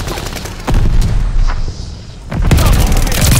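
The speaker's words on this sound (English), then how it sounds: "Allies called a bombing run." Bombing run in Call of Duty: Vanguard, with heavy explosions and deep booms rolling close and loud, two big bursts separated by a short lull, under dense battlefield noise.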